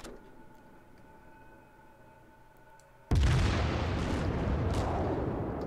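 Warship main guns firing high-explosive shells in World of Warships, a sudden loud deep boom breaking a quiet hum, followed by a sustained rumbling roar.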